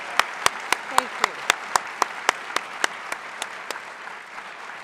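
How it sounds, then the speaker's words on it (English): An audience applauds a proud school group at Saint Johnsbury Academy, one nearby pair of hands striking sharp, evenly spaced claps over a softer spread of clapping that gradually fades. "please give them a huge round of applause"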